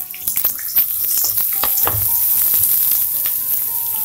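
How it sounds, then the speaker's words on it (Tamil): Onions dropped into hot oil hiss and crackle loudly at close range, with a sustained sizzle and a few sharp pops and stirring clatters over four seconds, no talk. "இப்போ எண்ணெய் சூடாயிடுச்சு, இதில் நம்ம வெங்காயத்தை ஆட் பண்ணிக்கலாம்."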